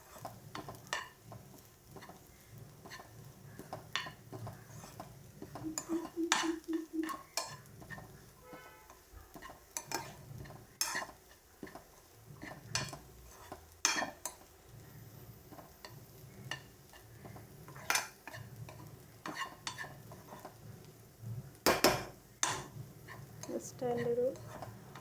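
A spoon scrapes and taps irregularly while spice masala with coriander powder is mixed in a pan, the sparse clicks faint over a low murmur of a voice in the background.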